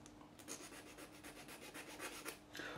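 A flat file rasps across a guitar fret during a re-fret and set-up of a Jim Harley GJA ED4C electro-acoustic, giving about a dozen quick, close scraping strokes in an even back-and-forth rhythm, with no talking.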